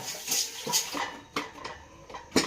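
Pot and steel utensils clatter with a few sharp knocks and scrapes while a pressure-cooked mutton leg soup is checked, close and moderately loud, with brief watery sounds between the clinks and no talking.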